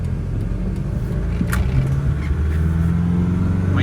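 A 2003 Nissan Frontier 3.0 four-door pickup's power steering is turned to full lock, raising a low, steady whine that sustains over the idling engine, with a brief pause in the middle.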